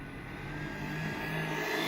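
A JLB 21101 RC car runs at full throttle, its electric motor giving a continuous whirring drone that swells slightly louder over a couple of seconds.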